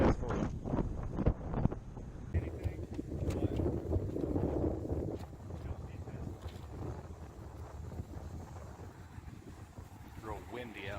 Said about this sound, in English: Real windy out here.